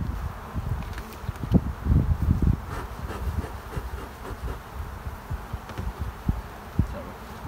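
Honeybees drone around an open hive of a small colony, a close continuous buzz with individual bees swelling past the microphone amid faint rustling.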